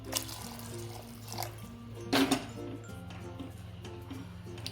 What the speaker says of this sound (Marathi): अजून थोडंसं पाणी टाकते